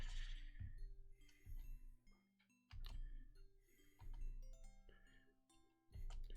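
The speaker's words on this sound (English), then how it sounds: "It's almost like circus music, except it's chimes" Cheerful, circus-like chime music plays in the video game Labyrinth of Grisaia, with bright, bouncy tonal notes over a steady beat at moderate loudness.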